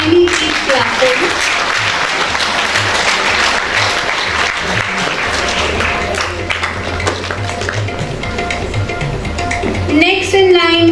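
Continuous audience applause at an award ceremony as a student receives a prize, full and fairly loud clapping with voices talking over it near the end.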